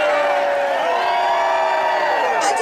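A huge outdoor protest crowd of around 1.5 million people at a march in Washington, DC cheers and roars continuously, a dense, loud wall of voices throughout.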